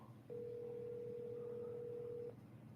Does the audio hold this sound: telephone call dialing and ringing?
yes